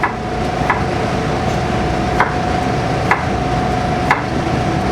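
A kitchen knife slices a halved onion thinly on a cutting board for a panzanella salad: four crisp, evenly spaced cuts over a steady background hum, with no talking.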